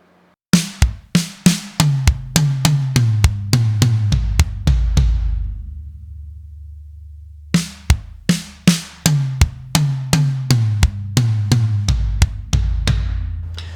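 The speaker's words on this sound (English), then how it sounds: "Third one, where the kick's been placed on number 2, it's going to sound something like this." A drum kit plays a linear pattern one drum at a time with the kick on the second note: two runs of sharp, evenly spaced strikes in a steady rhythm, close and loud, separated by a brief decaying pause.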